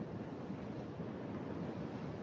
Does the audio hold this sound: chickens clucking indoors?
no